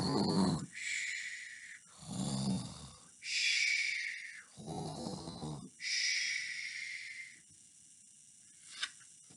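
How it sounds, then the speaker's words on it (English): A leopard's snoring, used as a sound effect in a children's story read aloud, comes as four long rasping snores with quiet gaps between them, then a brief click at the end. "Leopard snoring, goes the monkey."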